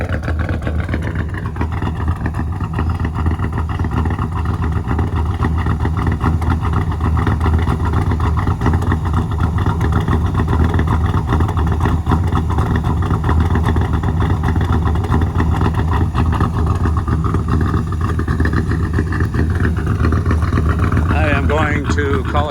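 Car engine with an AFR head and a big hydraulic cam idling high: a loud, steady, close rumbling idle with a lumpy pulse that holds throughout, with a voice talking over it.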